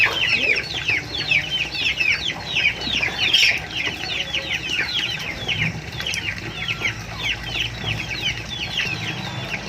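Many farm chickens cluck and chirp constantly at close range, a busy, overlapping chatter of short calls with no pauses.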